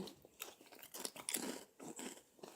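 Snacks crunch and get chewed close to the mouth in quick, uneven bursts, crisp bites breaking and grinding with short pauses between, fairly quiet overall and with no talking.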